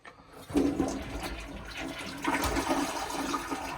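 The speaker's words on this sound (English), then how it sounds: "we can open up the lid and we can flush it" A newly built outdoor toilet flushes after its small button is pressed, a sudden gush of water that rushes steadily, then surges again into a loud, sustained swirl, with no talk over it.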